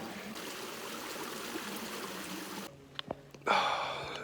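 A small creek flows and trickles steadily along the Manistee River Trail, a constant close babble that drops away near the end, followed by a few faint knocks and a brighter burst of splashing water.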